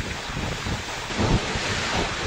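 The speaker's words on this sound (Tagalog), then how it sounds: "Ibinuhos muli yan ngayong hapon na sinabayan na naman ng malakas na hangin." Strong wind and heavy rain in Santa Ana, Cagayan, a steady broadband roar with gusty buffeting that swells slightly midway, no voices present.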